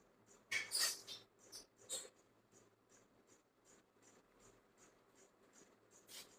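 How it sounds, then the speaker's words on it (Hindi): Pen or pencil writing a maths question on paper, a few quick scratchy strokes near the start, then a faint, sparse scratching under a quiet room hiss. "क्वेश्चन लिख के देते हैं।"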